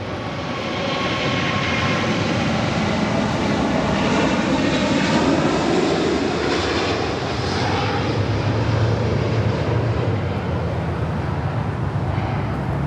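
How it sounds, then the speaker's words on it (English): A Korean Air Airbus A380 superjumbo departs from LAX on runway 25 right, its powerful four-engine roar loud and close, building and rumbling heavily across the whole stretch with no voices. "That is Korean Air Flight 18 Super departing the Seoul on the A380."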